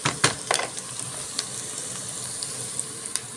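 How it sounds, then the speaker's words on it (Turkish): Minced meat frying in a pan, a close, continuous crackling sizzle with a few sharp clinks of a utensil near the start and no voices. "Kıymayı kavuruyorum."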